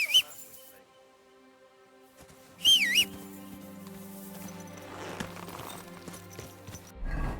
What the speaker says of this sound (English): I can whistle all I want.